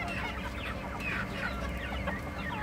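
Chickens clucking busily together just after being let out of their coop, a steady chorus of overlapping short calls, close and continuous with no talking.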